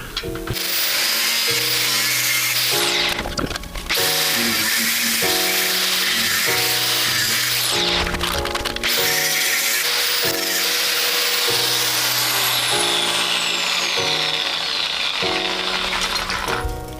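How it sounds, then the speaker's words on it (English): A power tool cuts out a section of metal plate while rally-style lifting points are fitted to an Audi A3 track car. The loud, steady whine shifts pitch in steps as the blade bites, with short pauses and no talk. "I've marked 10 mil smaller than my plate, so I'm going to cut that out"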